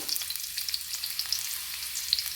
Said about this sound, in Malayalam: അത് രണ്ടും നന്നായിട്ടൊന്ന് വഴറ്റി കൊടുക്കുക.